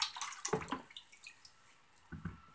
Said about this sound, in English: I'm going to go back to the stone, and I'm going to rinse off the stone